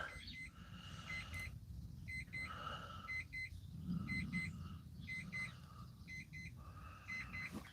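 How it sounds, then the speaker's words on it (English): A small electronic device beeps in repeated clusters at a steady rhythm, fairly faint, over a low background hum in a polytunnel. "Don't know why that's beeping, I'm sure it'll stop in a minute."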